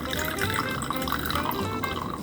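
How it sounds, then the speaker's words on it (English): Hot water pours steadily into a drink mix, a continuous liquid splashing and trickling sound with faint dripping, heard up close and alone. "add in the rest of your hot water to it"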